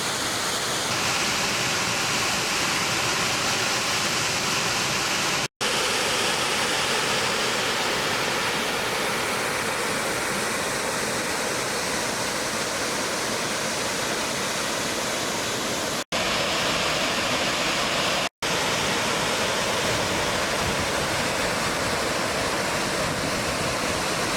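Rushing water of the St. Regis River pours steadily near a dam in Waverly in the Adirondacks, a loud, dense, unbroken roar that fills the whole stretch, cut only by a few momentary drops.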